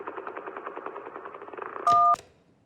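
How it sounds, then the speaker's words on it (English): Failing motorboat propeller, a sound effect from the video game Kentucky Route Zero, comes through as a fast, uneven chugging pulse over a phone line. It is cut off by a loud keypad beep, and faint line noise follows. "That was a motorboat's propeller failing."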